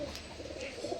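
A pigeon coos softly in a loft, with low, quiet, repeated murmuring notes and no voices.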